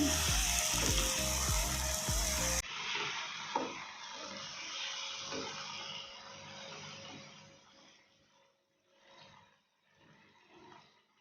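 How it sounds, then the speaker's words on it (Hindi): Chicken pieces frying with masala in a pan for dhaba-style dum biryani, a loud harsh sizzle that cuts off abruptly into a quieter steady fry with occasional stirring bumps, gradually fading softer. "दस मिनट के लिए ना बहुत ही अच्छे से इसको भून लेंगे।"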